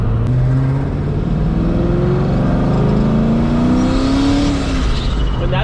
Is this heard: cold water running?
no